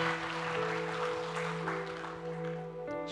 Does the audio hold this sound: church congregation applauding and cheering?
yes